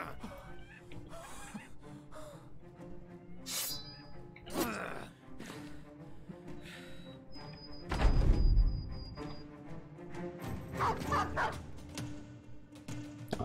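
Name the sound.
dog barking in the video game Battle Brothers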